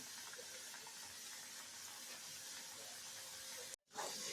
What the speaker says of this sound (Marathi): आपण ते छान गोल्डन ब्राऊन होईपर्यंत मस्त तळून घ्यायचं आहे मीडियम फ्लेम ठेवायची